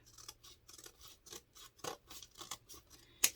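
Scissors snip and rasp through burlap in a series of short, quiet cuts at an irregular rhythm, ending with one sharper, louder snip.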